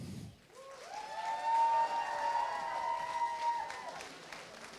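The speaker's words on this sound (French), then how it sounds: "Je vous demande d'applaudir Akiza." Moderate crowd applause at a cosplay contest on a convention stage, steady clapping with some cheering beneath a sustained musical tone for most of the clip.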